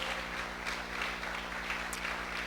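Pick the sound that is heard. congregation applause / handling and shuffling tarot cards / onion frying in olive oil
congregation applause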